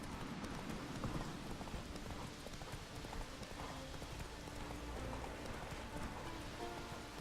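Horse hooves clip-clopping at a steady gait in The Witcher 3, a faint, continuous rhythmic clatter under a wash of rain-like background noise, with no speech.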